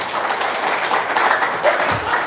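Audience applause fills a room in a steady, dense wash of clapping that holds at an even level throughout, with no voices standing out.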